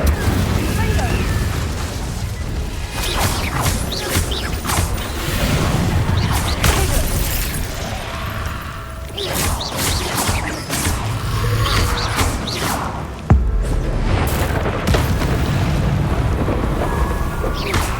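Incendio fire spells cast in Hogwarts Legacy, heard as repeated booming bursts and crackling blasts amid a dense, busy game mix, with a voice speaking over them.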